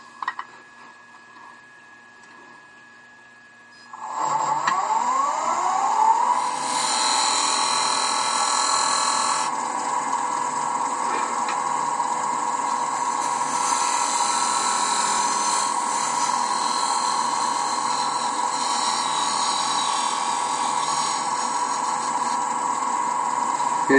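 A wood lathe turns a mahogany box lid as a tool tapers the end: a steady, loud whine with a rough cutting rasp starts after a quiet moment and runs continuously with slight shifts in tone.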